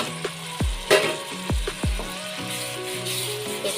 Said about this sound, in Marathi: एकदा आपण चांगला परतून घेऊया.